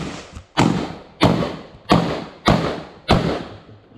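A 12-gauge Hunt Group MHX shotgun fires at an outdoor shooting range, five loud, sharp blasts spaced evenly about two-thirds of a second apart, each trailing off in a short echo.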